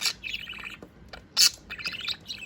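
A white budgie chirps and tweets in quick, bright bursts with short pauses between them, close by and fairly clear, with no one talking.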